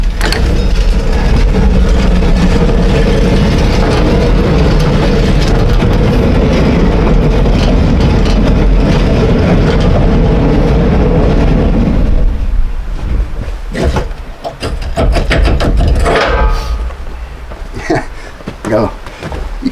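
A sawmill cutting a white oak log: a loud, steady engine drone and cutting roar runs for about twelve seconds, then drops away to clanks, knocks and lighter mechanical noises.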